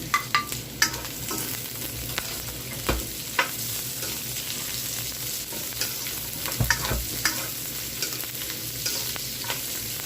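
Onion frying in a pan for pakbet, a soft steady sizzle close by with occasional clicks and taps of a utensil against the pan, no talking.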